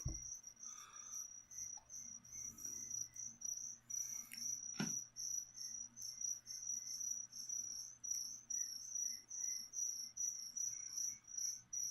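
Feeder crickets for a leopard gecko chirp in rapid, steady trills, close and continuous for the whole stretch, with a couple of brief handling knocks and no talking.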